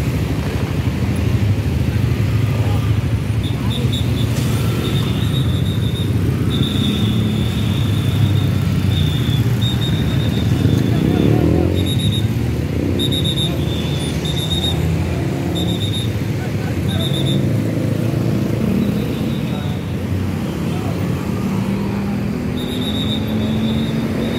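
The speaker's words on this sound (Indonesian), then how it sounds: "bus ALS keluar dari karoseri Adi Putro" An ALS Jetbus 5 bus leaving the Adiputro coachbuilder works in Malang, its engine rumbling steadily with passing traffic and repeated high electronic beeps, a voice speaking over the scene.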